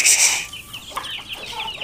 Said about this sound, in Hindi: मुर्गी जो है वो रैबिट्स के ऊपर बड़ा खतरनाक सा अटैक कर रही है।